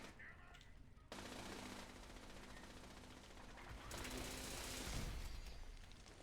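Automated turret gunfire in the video game Fallout 76: sustained rapid-fire bursts that run almost continuously, with a heavier, denser volley in the second half, fairly quiet overall.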